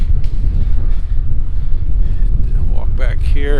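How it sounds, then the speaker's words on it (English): Steady wind buffets the microphone outdoors beside a truck loaded with steel beams, a constant low roar throughout, with a brief voice near the end. "It is a little windy."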